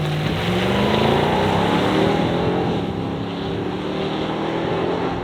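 An Australian-market Nissan Patrol Warrior V8 revs loudly through its side-exit exhaust pipes, a dense, continuous engine roar that holds steady for about five seconds.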